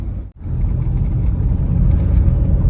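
Steady low rumble of cars moving in a line along a mountain road on the Delhi to Kedarnath route, engines droning continuously with a brief dip near the start, no talking.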